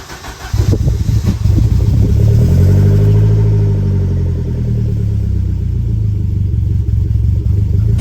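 A Saab 900 Turbo runs with a newly fitted Maptun exhaust that is leaking underneath, starting up and settling into a steady, deep idle with a low rumble close by and no talking.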